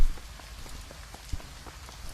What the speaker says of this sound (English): why is it raining inside the building?